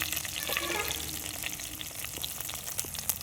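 Dried red chillies, broken in halves, frying in hot oil for masala chicken noodles, a steady soft sizzle with faint stirring clicks, fairly quiet and uninterrupted.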